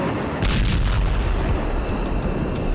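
Heavy bomber explosions from the Russia–Ukraine war rumble as a continuous deep booming roar, loud and dense, with a sharper burst of blasts near the start.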